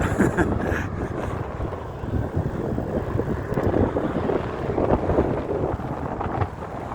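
Strong wind buffets the microphone in a continuous loud roar, gusting and rumbling steadily with no voices.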